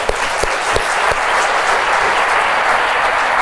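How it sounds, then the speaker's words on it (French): Steady applause from a conference audience, loud and sustained, with a few sharper claps standing out near the start. "On peut les applaudir"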